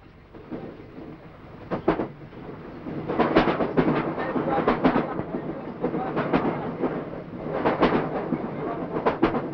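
A moving train in a 1983 Bengali film scene rumbles continuously with rhythmic clattering bursts of wheels on track, fairly loud and steady throughout.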